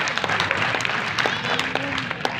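Applause from a laughter-show crowd at a Hindi comedy poetry (hasya kavi) event, a dense steady patter of clapping with a few sharper claps and faint voices mixed in.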